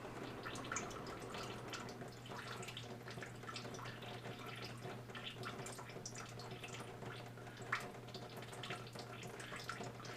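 Purple dye drips and trickles steadily from a spiral-tied fabric bundle during rainbow tie-dyeing, with a faint constant hum under the soft, continuous splatter and one brief louder drop near the end.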